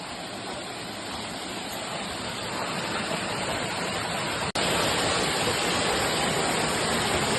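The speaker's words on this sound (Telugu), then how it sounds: "వాటర్ ఫాల్స్ పైనుంచి అయితే ఇలా ఉంటుంది." Waterfall near Srikalahasti heard from above, a loud, steady roaring hiss of falling water close by, with a brief dropout midway and no talk.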